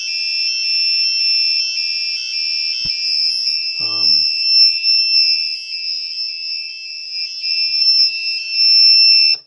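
A piercing, steady high-pitched electronic tone from an Arduino piezo buzzer drones continuously, with a faint brief click and a short voice partway through.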